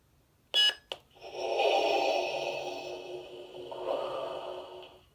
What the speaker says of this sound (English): push and hold your activation button until you hear the beep